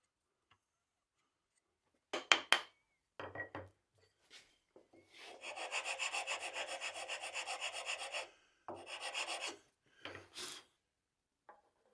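Plywood being sawn to cut relief cuts on the back of a homemade band saw frame part, heard as short rasping strokes at first and then a steady run of sawing, with a final brief burst of strokes near the end.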